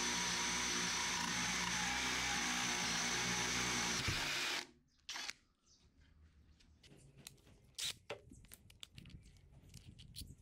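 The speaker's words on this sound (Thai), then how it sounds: "ก็เจาะได้ไม่ยากนะครับสำหรับไม้เนื้อแข็งกับการใช้ดอกใบพายเบอร์19นะครับ" A SKIL 20V cordless drill with a size 19 spade bit bores into hardwood, a loud, steady whirring grind that lasts about four seconds and then stops abruptly, followed by faint clicks and handling noises.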